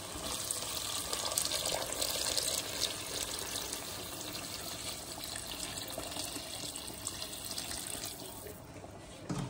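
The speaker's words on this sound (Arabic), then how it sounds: "وغنزيد اترو ديال الماء سخون" Hot water pours into a pot of pasta and chicken in a continuous, fairly faint splashing stream that lasts nearly the whole time and then stops abruptly at the end.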